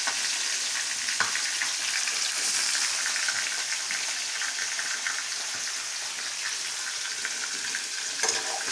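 Chicken pieces fry in a pan over a medium flame, a loud, continuous close-up sizzle with dense crackling and occasional sharper pops and spatters, no voices.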